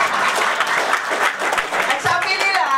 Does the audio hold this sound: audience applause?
yes